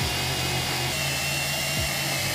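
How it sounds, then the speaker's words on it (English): Power drill boring a larger hole during a Garmin Livescope fishing sonar install, a steady close whirring with a brief dip in motor pitch near the end, with no talking. "So, that's what we're gonna do is drill out another hole, right? With that bigger one."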